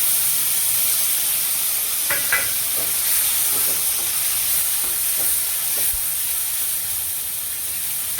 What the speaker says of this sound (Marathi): आता यामध्ये मी टमाट्याची ग्रेव्ही टाकून देणार आहे